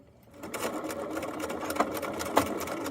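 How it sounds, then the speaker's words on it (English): A sewing machine back stitching over fanny pack webbing, its motor whirring up after a quiet start into a steady, close, rapid needle clatter that continues to the end. "And when I get to the end, I will back stitch again."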